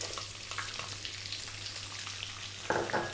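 Onion frying in hot oil with celery and carrot for vegetable rice gives a soft, steady sizzle under a low hum, with a few sharper crackles near the end.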